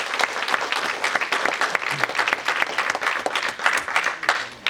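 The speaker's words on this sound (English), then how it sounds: "round of applause for them, please." Applause from the audience at a film festival Q&A in Barcelona, a lively, continuous burst of clapping with uneven pulses that holds steady throughout.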